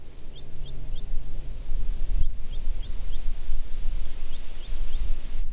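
A disc golf locator beeper on its chirp setting gives three bursts of rapid high chirping trills, each roughly a second and a half long with short gaps between, heard close and fairly loud over a low background rumble.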